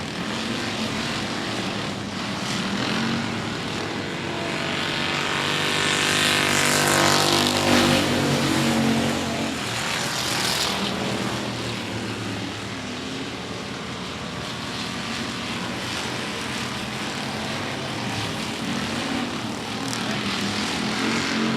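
Race cars at 105 Speedway drag race down into turns 1 and 2, a loud, continuous engine roar that swells as the pack passes close and then eases slightly, droning on without talk.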